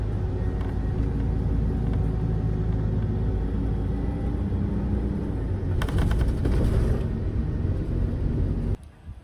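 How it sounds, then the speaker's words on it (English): A bus terminal in the mountain town of Takachiho, Miyazaki, gives a continuous low engine rumble and traffic noise, with a brief rattling burst midway and a sudden drop at the end. "This is the bus terminal."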